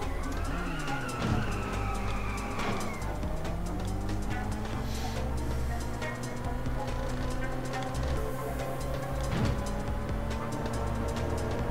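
Car engine revving with tyres skidding in the drifting racing game Inertial Drift, a continuous loud engine drone that rises and falls as the car slides, with squealing tyres throughout.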